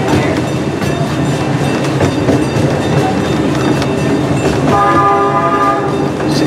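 A zoo train ride in Milwaukee rolls along loudly up close with a continuous rumble and clatter of wheels, and a sustained train horn blast sounds near the end.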